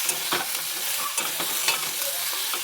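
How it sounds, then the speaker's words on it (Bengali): Chopped onions frying in hot oil for a cauliflower and prawn curry, a steady close sizzle with a few light stirring scrapes, no voices. "কুচিয়ে রাখা পেঁয়াজ ভেজে নেবো"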